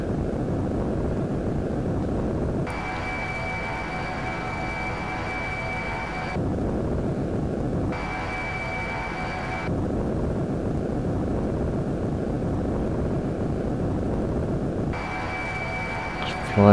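Fighter jets roar in the Eurofighter EF2000 flight game, a steady, loud engine drone with shifting tonal bands that changes character every few seconds, with no pauses.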